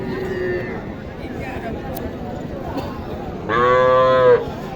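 A heifer lets out a loud, drawn-out moo near the end, over a steady hubbub of livestock market crowd noise and distant voices.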